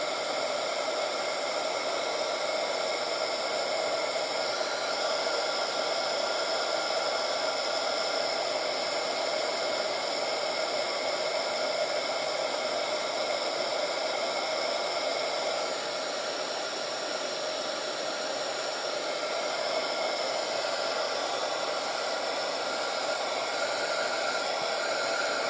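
A hair dryer runs steadily and loudly to dry wet watercolor paint on a stamped craft piece, one continuous whooshing drone lasting the whole stretch with no voices.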